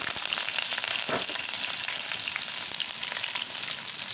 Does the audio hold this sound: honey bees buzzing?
no